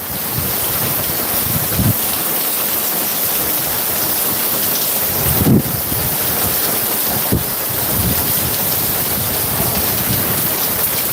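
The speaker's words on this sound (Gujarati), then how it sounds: "ખૂબ સરસ વરસાદ પડી રહ્યો છે બનાસકાંઠાની અંદર" Steady rain falling in Banaskantha, Gujarat, a loud dense hiss with wind buffeting the microphone and a few low thumps, continuous throughout with no voices.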